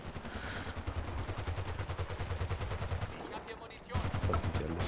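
PP-2000 submachine gun in Battlefield: Bad Company 2 firing a long rapid automatic burst, close and steady, pausing briefly before another burst, with faint talk underneath.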